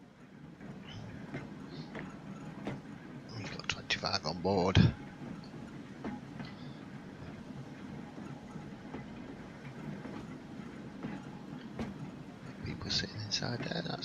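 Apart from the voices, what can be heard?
electric trains running in video game Transport Fever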